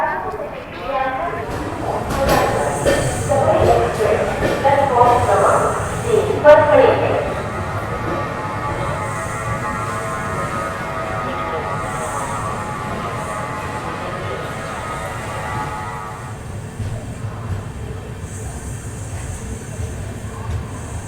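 The Amrit Bharat 2.0 Express from Jogbani to Erode, hauled by a full locomotive, pulls away with a low rolling rumble and a steady whining tone. A person talks over the start before the train noise carries on alone.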